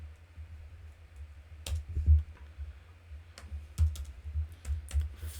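Keys on a computer keyboard clatter as code is typed, with scattered light clicks and small clusters of taps at an uneven pace, fairly close and quiet, with no voice over them.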